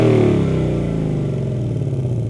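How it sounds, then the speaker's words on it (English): The Coyote V8 of a 2019 Ford Mustang Bullitt revs loudly through its exhaust, a deep rumbling burble that swells at the start and then settles into a throbbing idle, close and alone. "everyone likes the sound of the exhaust from that Coyote V8,"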